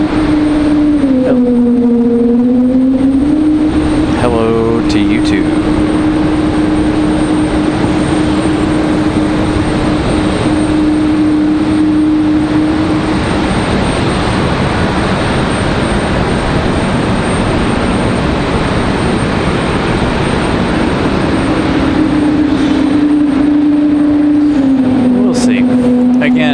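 A Delta Airbus A220 jet passes at Raleigh Durham International Airport with a loud, steady engine roar that fills the whole stretch. Someone talks over the noise near the start and again near the end.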